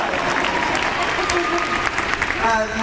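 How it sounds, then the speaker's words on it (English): Audience applause for Sailor Moon at an anime convention panel, a dense steady patter of many hands filling the room, with voices murmuring underneath and a speaking voice rising near the end. "You can clap for Sailor Moon, come on."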